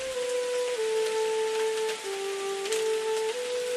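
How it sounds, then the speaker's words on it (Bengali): Heavy rain pours down on a market street, a continuous loud hiss running throughout beneath a sustained tonal music drone. "কি এক ভয়ঙ্কর বৃষ্টি শুরু হয়েছে!"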